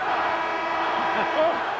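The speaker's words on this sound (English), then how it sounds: "The crowd is on its feet here at the Forum" A basketball crowd at the Forum during the 1985 NBA Finals roars and cheers as one continuous loud wash of voices, with a commentator talking over it.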